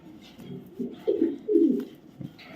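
Racer pigeons give a few soft, close, throaty coos in short bursts, with a quiet voice briefly in the background.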